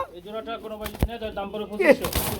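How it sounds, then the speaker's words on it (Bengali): Red Gulla pigeons coo in a brief, close burst lasting a couple of seconds, mixed with a voice in the background. "রেড কালারের মধ্যে বন্ধুরা গুল্লা কবুতর খুব সুন্দর"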